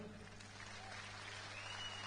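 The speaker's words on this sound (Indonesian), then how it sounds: "Kasih tepuk tangan dulu." Soft, steady clapping from a crowd, quiet and somewhat distant, with a low hum underneath throughout.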